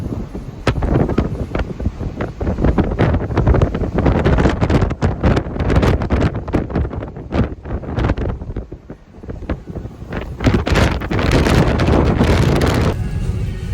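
Strong storm wind from Storm Éowyn buffets the microphone outdoors in loud, continuous gusty roars and thumps with no let-up.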